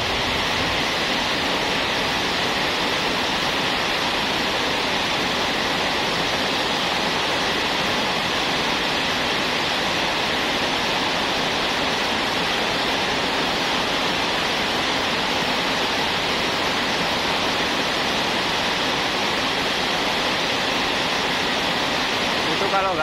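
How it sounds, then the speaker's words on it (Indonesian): Heavy rain pours at the Arjosari flyover in Malang, making a dense, steady roaring hiss that stays loud and unbroken throughout. "Kita nggak bisa ke sana ya karena hujannya deras banget."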